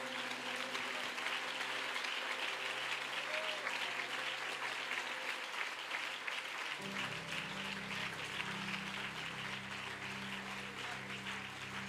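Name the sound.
applause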